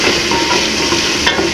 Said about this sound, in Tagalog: ilalagay na natin ang bawang